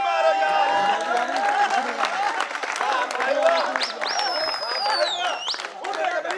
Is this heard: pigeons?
no